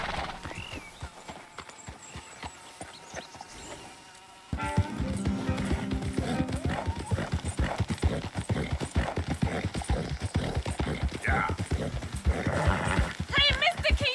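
A horse's hooves clip-clop in a steady walking rhythm, close and clear, beginning after a few seconds of quieter sound and continuing under talk, with an occasional whinny.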